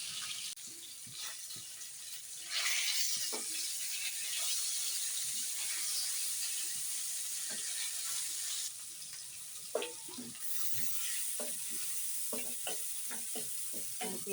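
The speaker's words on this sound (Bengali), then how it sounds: "পেঁয়াজটা একটু হালকা ভাজতে নিই।" Onions lightly frying in a pan give a steady close sizzle with occasional stirring scrapes and clicks, running throughout without talk.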